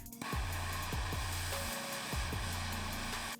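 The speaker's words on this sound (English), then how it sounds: "So we're gonna use a torch to break that free." A torch flame heats a Loctite-held set screw on a Honda CR250 dirt bike, giving a steady, close roaring hiss that runs throughout, with a few low thumps and clicks underneath.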